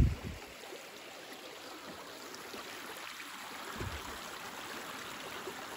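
Route Run, a small stream along the North Country Trail in Kinzua Country in December, flows with a soft, steady broadband rush, faint and continuous, with a couple of brief low thumps near the start and later.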